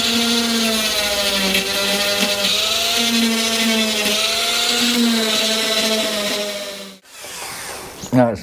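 A high-pitched power tool whines steadily while etching a V groove into Honda CR-V car bodywork, its pitch wavering slightly, then stopping abruptly before a short clatter.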